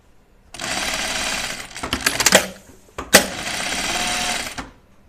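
A sewing machine stitching a duffle coat runs in two loud, steady bursts of rapid mechanical whirring close by, separated by a brief pause filled with clicks and clunks, with no talk.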